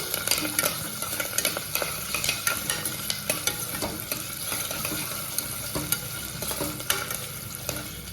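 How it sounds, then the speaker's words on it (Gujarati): Chopped green chili and curry leaves sizzle steadily in a frying pan as a spoon stirs them, with frequent close scrapes and clinks, while a fasting-style samo millet khichdi is cooked. "લીલું મરચું કટ કરેલું અને જે લીમડાના પાન રાખ્યા હતા તેને આપણે ઉમેરી દઈશું આની અંદર અને સારી રીતે આપણે આને મિક્સ કરી લઈશું"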